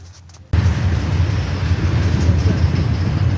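Trains pulling out on a railfanning trip in Ohio during a solar eclipse: a sudden onset of steady, loud rumbling and wheel noise that holds throughout, close by, with no talking over it.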